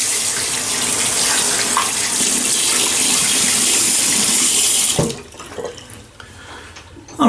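A razor is held under a running tap, giving a steady loud gush of water splashing in a sink for about five seconds before the flow stops, leaving faint drips and handling clatter.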